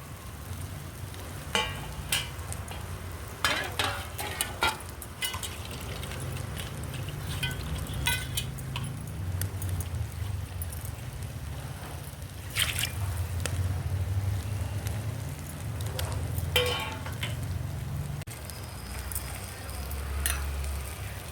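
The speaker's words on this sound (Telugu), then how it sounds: "వంకాయలు ఎంత బాగా మంచిగా చూడండి ఆయిల్లో బాగా ఫ్రై అవ్వాలి మాడిపోకుండా మధ్య మధ్యలో కలపెడతా ఉండాలి" Brinjals fry in oil with a soft, steady sizzle, broken by occasional scraping clicks as they are stirred now and then. The cooking sounds are moderately close and no one speaks.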